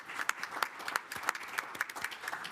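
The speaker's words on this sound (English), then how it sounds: "Let's give them a round of applause." At a joint city council and stadium authority meeting honoring Mission College scholarship recipients, a moderate audience claps steadily and briefly, sharp individual claps standing out over a continuous patter.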